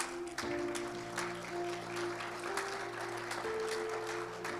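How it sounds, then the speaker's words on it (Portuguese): A church congregation claps in a sustained burst of applause, heard at moderate level with a steady organ or keyboard tone sounding beneath it. "Você pode aplaudir bem forte ao Senhor."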